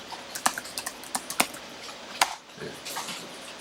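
Keys clatter on a computer keyboard as accounting entries are typed, a close series of sharp, irregular taps with brief pauses between bursts.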